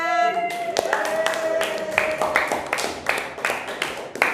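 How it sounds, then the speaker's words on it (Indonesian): Group applause in a classroom session, a burst of hand clapping with a teacher's voice speaking over it as it tapers off. "Oke, tepuk tangan untuk semuanya."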